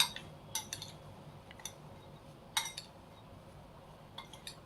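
Salad being tossed with lemon juice in a bowl, giving faint, scattered clinks of a spoon against the dish over a quiet kitchen background.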